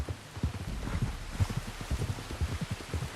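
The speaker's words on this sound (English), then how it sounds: "You were right about the damn rain." Rain patters steadily in Red Dead Redemption 2, a dense soft drumming with scattered heavier low drops, heard alone without talk.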